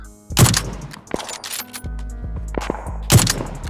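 Bursts of gunfire in PUBG crack and boom twice with loud sharp blasts, separated by scattered thuds and lighter pops in a game-like soundscape.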